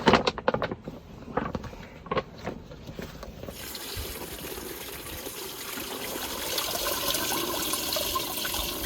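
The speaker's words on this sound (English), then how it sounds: "It's the Nemo Helio LX shower." Pressurized spray from a Nemo Helio LX foot-pump camp shower used outdoors beside a small Scamp trailer, starting with scattered taps and splashes, then settling into a steady, fairly close hiss of water for the rest.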